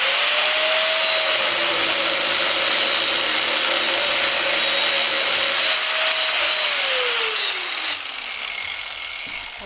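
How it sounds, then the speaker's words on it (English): A power tool grinds through the splined end of a Ford F250 axle shaft, a loud steady high-pitched whine throughout with a tone that drops as the blade loads up near the end, no talking. "we wanted to know if we could cut a little bit off the splines of this axle to make it shorter"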